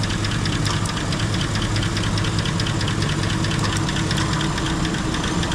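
A car's air conditioning compressor runs steadily under the hood beside the idling engine, giving a constant close mechanical hum with a faint rapid ticking throughout and no talk.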